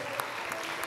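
Steady, dense clapping from a crowd rewards the performers of the "Zimske radosti" New Year production by PK Lukec Brežice in 2022, with a short, even burst that holds at one level throughout.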